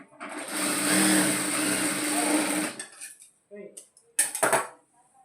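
A sewing machine stitches piping on a blouse in one continuous run of about two and a half seconds, followed by a few short clicks and handling sounds.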